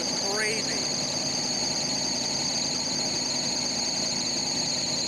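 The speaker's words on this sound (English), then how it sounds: "That squealing you hear is that stupid belt up front." RV engine runs steadily at a close, even idle while a worn front belt squeals in high, sustained whining tones over it, with a brief voice early on.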